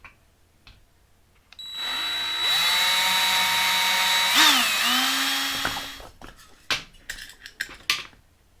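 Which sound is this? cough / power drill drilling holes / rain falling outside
power drill drilling holes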